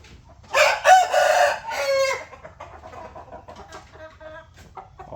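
A rooster crows loudly and close, one long drawn-out call, followed by softer clucking and bird sounds.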